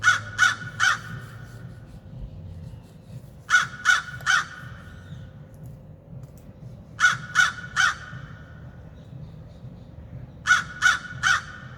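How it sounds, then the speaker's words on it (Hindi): Crow cawing used as a puppet-show sound effect: four bursts of three quick harsh caws each, evenly spaced and loud over a quiet low background hum. "इधर उधर काव काव करता रहता था, कभी इस टहनी पर कभी उस टहनी पर।"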